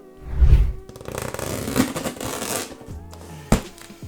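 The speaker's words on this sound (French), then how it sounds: "on prend mon beau ciseau de collégien et on va ouvrir ces 2 colis" Scissors cut into two parcels being opened at home, with rustling packaging and crinkly cardboard handling, a low thud near the start and a sharp snip or tear near the end.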